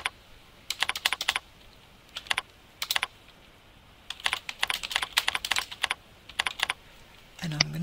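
Bursts of quick keyboard clicks come in several short runs separated by pauses, close and crisp, with a voice briefly starting at the end.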